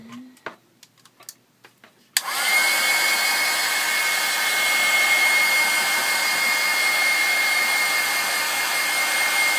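A hair dryer switches on abruptly after a few faint taps and blows steadily and loudly, drying a packing tape transfer for mixed media art, with a constant whooshing airflow and a faint high whine.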